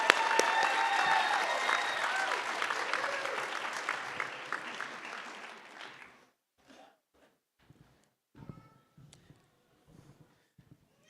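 A high school graduation audience claps and cheers loudly for about six seconds, then the applause dies away into near silence with a few scattered claps and faint sounds.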